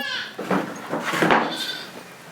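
Goats bleat in a few short, wavering calls at close range, with a voice speaking briefly among them.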